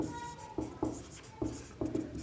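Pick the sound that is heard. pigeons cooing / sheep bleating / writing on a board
writing on a board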